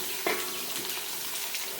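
Finely chopped onions fry in a pan with a constant, even, moderately quiet sizzle, broken by a brief soft scrape early on.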